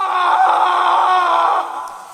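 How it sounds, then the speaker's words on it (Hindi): A man screaming in an audio drama sound effect, one sustained loud strained cry lasting about two seconds before trailing off, heard alone. "और फिर अचानक किसी आदमी के चीखने की आवाजें आनी शुरू हो गईं।"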